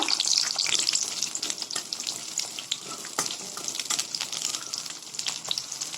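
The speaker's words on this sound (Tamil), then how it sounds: "வெங்காயம் கலர் மாற அளவுக்கு நல்லா வதக்கிக்கோங்க." Small onions sautéing in a pan for a South Indian rice dish, a steady loud sizzle with crackling spatter and occasional stirring throughout, no voices.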